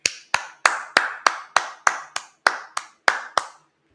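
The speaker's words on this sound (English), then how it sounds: "Clap it up." Congregation at a Day of Atonement gathering in Indianapolis claps hands in unison, about twelve sharp, evenly spaced claps in a steady rhythm, close and loud, then stopping.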